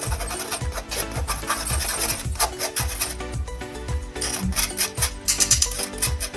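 Rhythmic scraping and rubbing of gram flour (besan) being sifted through a kitchen sieve, repeated fast strokes, close and loud with no talk.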